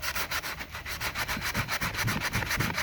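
Rhythmic back-and-forth rasp of sandpaper rubbing a wooden axe handle by hand, quick regular strokes repeating close up.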